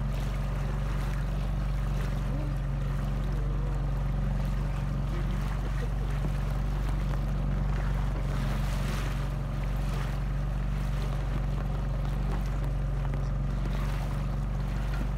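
A boat engine drones steadily throughout on the sea off Finistère, its low hum constant under wind and the wash of water against the hull.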